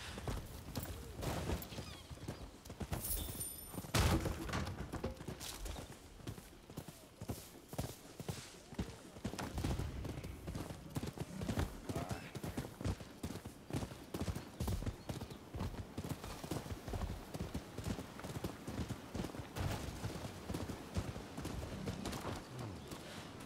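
Horse hooves clip-clop steadily at stables in the Rise of the Rōnin video game. The footfalls are close and rhythmic and continue throughout, with a brief louder clatter early on.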